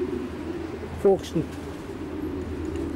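A racing pigeon hen, a past Young Bird National winner, coos twice in a loft, briefly and up close, as someone speaks over the low background.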